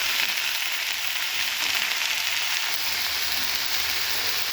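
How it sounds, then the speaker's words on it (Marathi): Spring onion greens sizzle and fry in hot oil while being stirred, a steady close crackling hiss running continuously without pause or talk. "कांद्याची पात आपण टाकलेली आहे तर आपण हे आता मस्त अशी हलवून घेणार आहोत"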